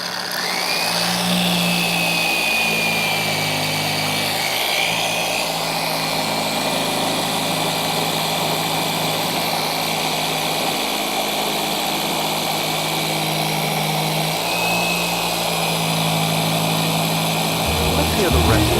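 A car paint polisher runs at speed 5 during two-step paint correction on a Jeep Grand Cherokee, giving a loud, steady high-pitched whine for the whole stretch with little change in pitch.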